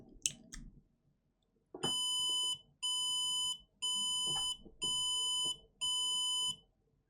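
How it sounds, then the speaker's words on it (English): After a faint click and rustle, a MiSTer FPGA Mini-ITX board gives five evenly spaced, loud, bright beeps at power-on, each lasting about half a second. "And then we get 5 beeps"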